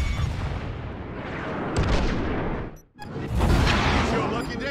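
Missile strike and heavy blasts in the space combat game Star Wars Squadrons, a loud rumbling barrage with a brief sharp dropout before the booming resumes, with voice chatter mixed in.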